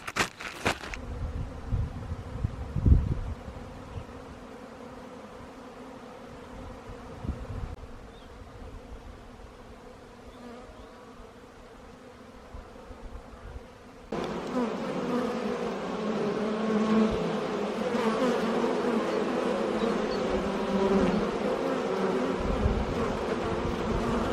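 Dense, steady insect buzzing from many honeybees at an open hive, growing noticeably louder and fuller partway through and continuing without talk.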